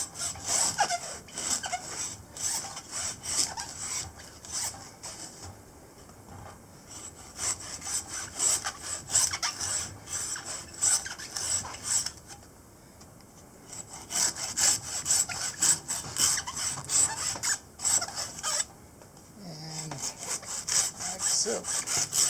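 A hacksaw cuts around a coconut husk clamped in a vice, with long runs of quick, rhythmic rasping back-and-forth strokes broken by short pauses, close and loud throughout.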